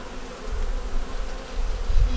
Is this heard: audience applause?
no